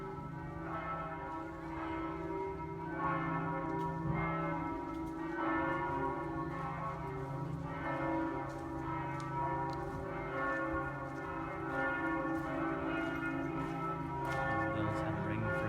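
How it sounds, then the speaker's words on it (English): Church bells ring steadily in a European town, a layered, resonant peal with repeating strokes that sustains throughout, heard from some distance with faint background sound. "Bells have been ringing for ages."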